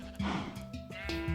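Sheep in the Minecraft video game bleating several times in quick succession, close and clear, the calls wavering and overlapping slightly.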